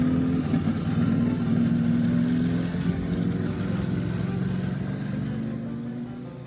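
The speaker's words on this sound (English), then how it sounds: "Well, I mean the engine sound." Engine drone near a reservoir and forest temple in Saraburi, Thailand: a steady, fairly close motor hum with a sustained low tone that slowly shifts pitch, continuous and gradually easing toward the end.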